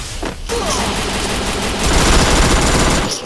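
Rapid automatic gunfire rattles almost without pause in a Free Fire match, loud and dense, with a short break near the start and a heavier burst toward the end.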